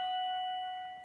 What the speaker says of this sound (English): my doorbell's ringing and I don't know who's there